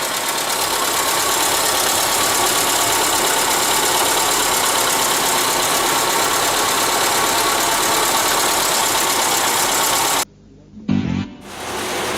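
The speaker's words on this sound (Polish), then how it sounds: "Silnik się płucze." A Polonez 1500 car engine idles steadily during an engine flush with a constant mechanical hum and rattle for several seconds, then cuts out abruptly, followed by a few faint thumps.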